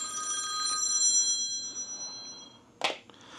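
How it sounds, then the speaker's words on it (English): A phone rings with an incoming call during outdoor lawn treatment, a repeating electronic ringtone of bright warbling tones at moderate volume, ending in a sharp short chirp. "Phone call."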